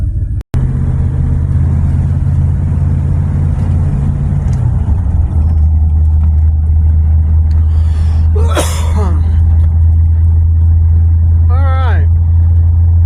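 A farm truck engine runs in the cold with a loud, steady low drone that shifts pitch partway through, close by, with brief breathy sounds and a sharp click near the start.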